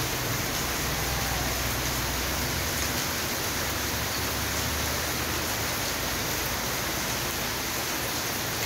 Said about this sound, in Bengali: বৃষ্টির আওয়াজ শুনতে পাচ্ছেন? কি ঝমঝম ঝমঝম করে বৃষ্টি,